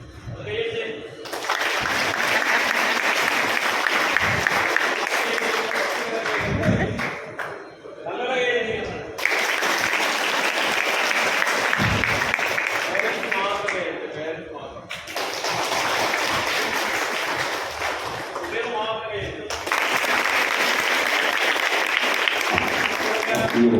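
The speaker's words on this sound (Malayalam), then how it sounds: "ഒരു കയ്യടി കൊടുക്കട്ടോ" Audience applause at an SNDP Yogam Parassala union and pensioners' council career event breaks out in several loud, sustained bursts of clapping, with people talking in the short gaps between.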